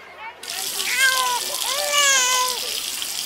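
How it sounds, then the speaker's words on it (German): Water sprays from a shower at a toy swimming pool, a steady bright hiss running throughout while a childlike voice talks over it. "Jetzt sind wir unter der warmen Dusche."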